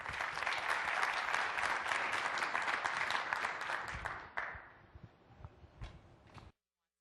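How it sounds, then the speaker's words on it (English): Conference audience applauding: a loud burst of dense clapping that holds for about four seconds, then thins into a few scattered claps and ends with a short thump. "Please give them a round of applause."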